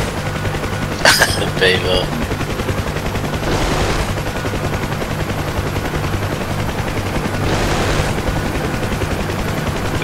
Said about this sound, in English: the gunners are opening up